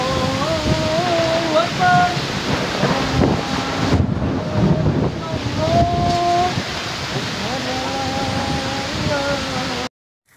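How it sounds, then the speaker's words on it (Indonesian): Strong whirlwind gusts in Parung roar steadily over storm noise, loud and close, while voices shout and talk throughout. "puting beliung, angin lebat"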